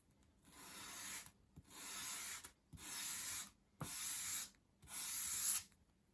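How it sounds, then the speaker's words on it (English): Sandpaper sanding a bevel along the long edge of a small wooden plinth for a 1/12th scale dollhouse bookcase, five separate close scratchy sweeps with short pauses between them, heard alone. "And again, you can just sand to tidy that up."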